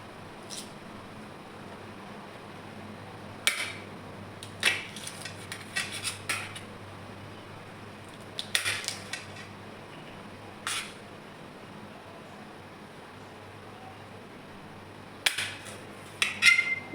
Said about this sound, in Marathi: या पद्धतीने सर्व भेंडी कट करून घेते.